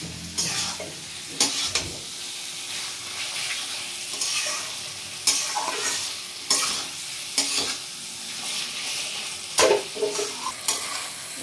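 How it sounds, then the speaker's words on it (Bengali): Goat meat stir-fried with spices in a pan, a continuous sizzle broken by regular scraping strokes of the spatula every second or so, close and without talking. "মাংসটা আমি মশলার সঙ্গে মিশিয়ে নেব, তারপরে আস্তে আস্তে কষতে থাকবো"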